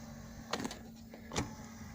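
The electric seat motor in a BMW E34 525tds whirs forward in two brief, faint bursts inside the quiet car.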